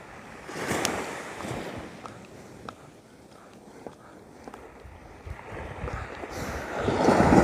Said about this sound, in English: This is about the only place on the beach where we've got waves crashing in like this.